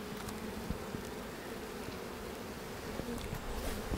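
Honeybees buzz around an open hive during spring hive work, a steady, dense hum that fills the whole clip at close range with no talking.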